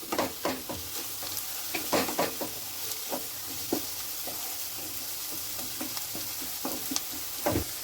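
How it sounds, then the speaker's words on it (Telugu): Egg tomato curry being stirred in a pan after spices go in, with scattered scraping and tapping strokes over a continuous soft sizzle, close and moderately quiet, with no speech. "చక్కగా కూర మొత్తం కలపాలి."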